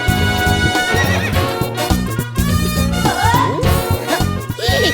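A horse neighs loudly and close, giving repeated whinnying cries with shaky rising and falling pitch, interspersed with snorts and a few hoof clops.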